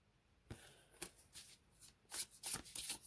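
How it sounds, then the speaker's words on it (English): Thin Spacious Tarot first-edition cards being shuffled in repeated quick riffling bursts, crisp and close, growing busier and louder toward the end with no talking. "See how they shuffle over each other. Yeah, they shuffle beautifully."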